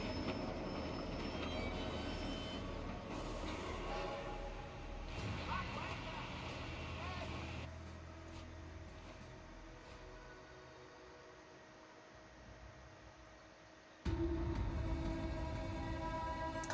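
Railway gun train rolling along in Sniper Elite 4, on a viaduct level: a steady rumbling rail clatter with squealing wheels, loud throughout and swelling again near the end, with speech from players mixed in.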